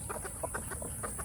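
Free-range village chickens cluck in a string of short, soft calls at an uneven rhythm, faint and somewhat distant over a constant high-pitched background whine.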